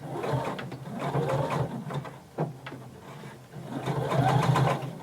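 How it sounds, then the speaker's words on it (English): A sewing machine back stitching on denim fabric, its needle mechanism whirring in close, rhythmic bursts with a brief pause and click midway before running again. "I'm going to put my needle in and I'm going to back stitch."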